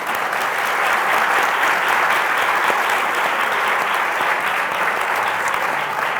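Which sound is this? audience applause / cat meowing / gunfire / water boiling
audience applause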